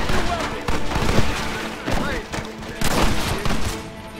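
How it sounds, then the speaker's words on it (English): Shotgun blasts and heavy gunfire burst repeatedly in a Red Dead Redemption firefight, loud rapid bangs layered with other shots and game noise, with someone talking over the action. "Pump action shotgun."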